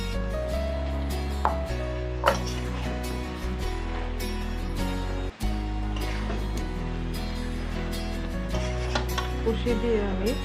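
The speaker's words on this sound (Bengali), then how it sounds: "নাড়িয়ে চাড়িয়ে দিব, যাতে গায়ে গায়ে সব মশলাগুলো লেগে যায়" Beef curry with ridge gourd being stirred in a pot, with steady scraping and clinking of a spoon against the metal under a continuous low hum and music, several sharper knocks scattered throughout.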